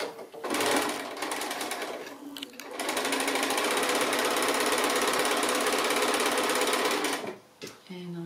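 A sewing machine joins quilt blocks with a quarter-inch seam, running in long steady bursts with a brief pause near the start and stopping at the end, close and loud, with a voice briefly heard at the close.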